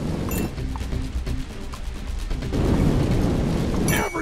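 Steady roaring whoosh of things burning in fire during chaotic play of the video game 3 out of 10, loud and continuous with muffled bursts and pops, swelling toward the end.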